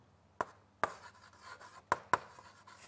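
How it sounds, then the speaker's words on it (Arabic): Pen writing a gluten-free menu by hand on paper, four sharp scratchy strokes in two pairs, close and fairly quiet against a near-silent background. "تعال نكتب المنيو"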